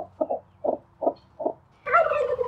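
Farm turkeys kept with ducks and emus on a pastured poultry setup gobble in five short, evenly spaced bursts, followed by a louder, sustained gobbling call at close range, with no talking.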